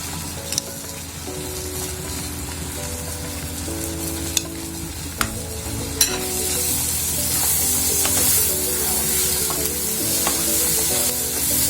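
Chopped large onion frying in a pan for spicy roasted beef brain, a steady close sizzle with occasional spatula knocks and stirring scrapes; the hiss swells louder partway through.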